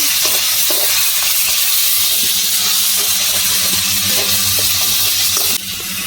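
Garam masala and chili powder stir-fried in hot oil for jackfruit ghugni: a loud, continuous hissing sizzle with rhythmic stirring scrapes, easing suddenly near the end.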